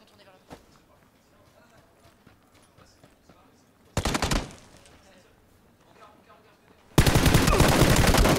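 Gunfire in the battle royale video game PUBG, a few scattered single shots, then a loud burst near four seconds and sustained rapid automatic fire at the end, with quiet voice chat between the volleys.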